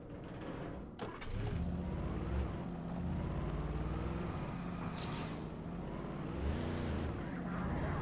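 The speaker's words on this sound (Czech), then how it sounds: "vezmem si tady to modré auto" A blue car is driven in a horror hunting video game, its engine droning steadily with tire and body noise and a few sharp hits over the motor.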